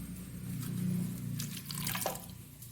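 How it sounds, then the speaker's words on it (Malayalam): Water pours into a tapioca masala paste in a Kerala kitchen, a steady splashing run of liquid that swells and then tapers off, heard close up with no talking. "നമുക്കിനി ഇതിലേക്ക് ഇത് വേവാനുള്ള ശകലം വെള്ളം ചേർക്കാം."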